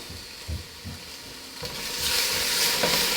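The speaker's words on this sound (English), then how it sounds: "So I'm gonna go ahead and put my garlic in." Garlic sizzling as it hits a pan of soft, browned onions while cooking a bean soup, with a few soft stirring thumps early and the frying hiss swelling louder and steadier toward the end.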